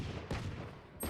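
Video game gunfire bursts out in a few sharp volleys, one early and another near the end, over a steady rumbling game backdrop with no talking.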